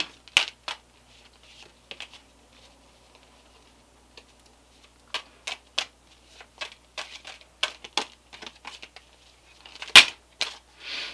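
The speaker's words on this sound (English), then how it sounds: "I want to flip them around before I start shuffling." Tarot cards being flipped and shuffled by hand, a series of short, crisp riffling and tapping bursts, close and fairly quiet, with pauses between them and no talking.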